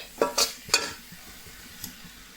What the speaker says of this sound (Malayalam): നല്ലപോലെ ഇളക്കിയിട്ട് ഒന്ന് അടച്ചു കൊടുക്കാം.